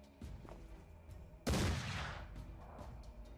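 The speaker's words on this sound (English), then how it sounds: "And then you can take a sniper shot at someone as well." A single sniper rifle shot in Mordheim: City of the Damned, a sudden loud crack that rings out and slowly decays, following quieter scattered game sounds.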